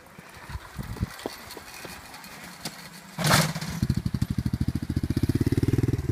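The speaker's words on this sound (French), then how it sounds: "Il lâche l'embrayage et il donne un coup de gaz et il saute sur sa moto." A dirt bike engine catches on a bump start without the kickstarter, first scuffing and clunks, then a sudden burst into a rapid, pulsing exhaust that revs up loud and close.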